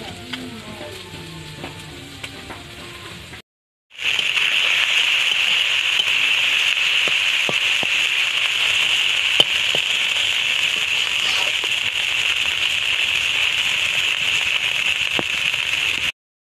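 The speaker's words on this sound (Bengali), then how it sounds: "চিংড়ি মাছ ভাজা হয়ে গেছে" Shrimp sizzling and frying in a hot pan in a village kitchen, a steady loud hiss running nearly continuously after a brief quiet gap, with small pops and crackles scattered through it.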